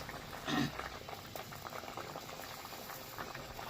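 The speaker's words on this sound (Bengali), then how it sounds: "দেখো ডিম এখনো সেদ্ধ হয়নি, সিদ্ধ হয়ে যাচ্ছে।" Duck eggs boiling in a pot of water on a home kitchen stove, a steady low bubbling and simmer throughout with a brief louder burst near the start, no voices.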